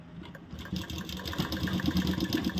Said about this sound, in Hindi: यहाँ हमने डबल सिलाई लगा ली है।